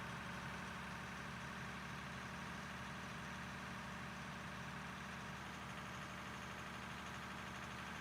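A loader's steady, low engine idle drones on with an even, unchanging rumble, quiet and continuous with no voices.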